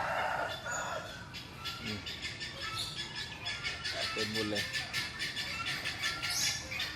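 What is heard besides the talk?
poultry calling, turkeys and peafowl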